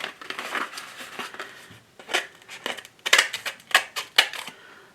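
Several crisp snips of sharp scissors cutting through a piece of yarn, close and loud, with papery rustling between cuts and no talking.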